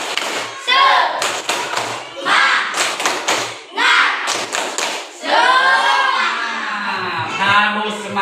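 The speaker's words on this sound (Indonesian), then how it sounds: "silakan tepuk semangat terlebih dulu" Students in an Indonesian classroom perform a group spirit clap before presentations, loud rhythmic bursts of clapping and thumps in several patterned groups, with chanting voices mixed in and a teacher talking toward the end.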